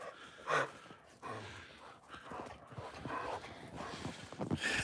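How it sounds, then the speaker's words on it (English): A dog moves through deep snow on a winter hike outdoors, with crunching, plunging steps, snorts and heavy breathing at close range, irregular and fairly faint. "My dog's gonna have a face full of snow."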